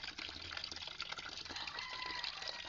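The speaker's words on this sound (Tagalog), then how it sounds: "Naglagay tayo ng tubig sa timba" Water pours steadily into a bucket, readied for bathing a mother hen and month-old chicks, a continuous close, faint gushing splash with no break.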